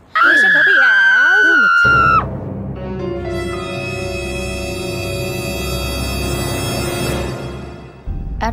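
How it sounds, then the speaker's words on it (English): A woman screams loudly and shrilly in a Sims 2 movie, a wavering sustained cry lasting about two seconds before dropping away into a dense, noisy layered background. "Everybody was surprised by the screaming, and it was from the second floor of the house."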